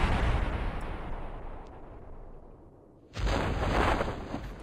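Rocket exploding in the Kerbal Space Program video game: a loud, sustained rumbling burst fades over about three seconds, then a second sharp blast erupts and roars on strongly to the end, with no talk.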